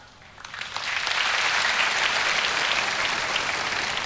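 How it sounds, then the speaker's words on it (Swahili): An audience at an affordable housing event applauds graduate interns, the clapping swelling quickly from quiet into a dense, steady crowd ovation that holds for several seconds. "Wapigie makofi"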